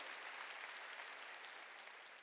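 A church congregation applauding during a New Year's Eve service, a dense, steady wash of clapping from many hands that fades slightly toward the end.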